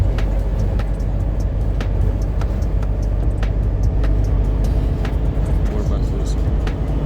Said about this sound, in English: Look at all these buses.